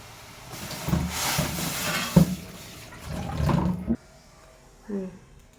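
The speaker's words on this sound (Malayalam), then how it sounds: "അതിൽ നമ്മളൊരു ഗ്ലാസ് വെള്ളം ഒഴിക്കണം." Water pours and splashes into a pot in short bursts, pausing between pours, with a brief gurgle near the end.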